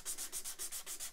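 Rhythmic back-and-forth rubbing of 400 grit sandpaper across the neck of a Cort G280 guitar, about eight even strokes in quick succession, close and soft, with no voices.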